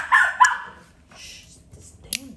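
A dog gives two quick sharp barks up close, then falls quiet apart from faint background sounds, and lets out one more brief yip near the end.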